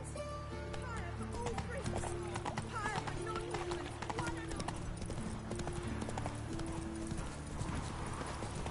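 Horse hooves clip-clopping at a steady gallop in The Witcher 3, with an occasional whinny, set under continuous game music and character voices.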